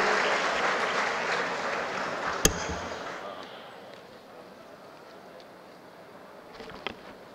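An audience at a Smart City Summit in Raipur applauds to welcome a minister, a dense burst of clapping that fades away after a few seconds, with a sharp thump partway through.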